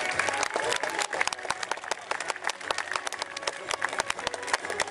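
Crowd applause at the inauguration of a medieval park at the Château de Montcornet in the Ardennes, following a display of precision and speed. Steady, dense clapping from many hands fills the whole stretch, close and lively.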